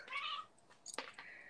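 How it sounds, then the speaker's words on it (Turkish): A female cat in heat meows twice, a drawn-out plaintive cry followed by a shorter, higher yowl, fairly close and quiet with no talking over it. "Kedi mi var?"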